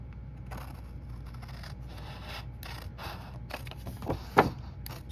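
Scissors cut a piece off a sheet of card for a custom box, giving a few quiet creaks and scrapes up close, with one sharper snip near the end.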